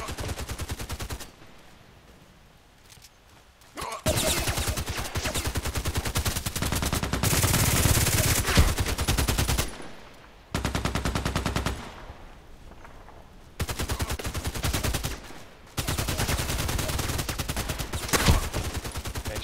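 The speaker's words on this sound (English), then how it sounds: "Actually, I was shooting." Rapid automatic gunfire in a sniper video game, long loud bursts of dense shots separated by brief quieter pauses, punchy and close with a steady rattling rhythm.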